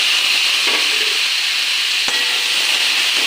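Chopped greens and sweet pumpkin frying in a pan, a steady loud sizzle that holds evenly throughout, with a faint clink partway through.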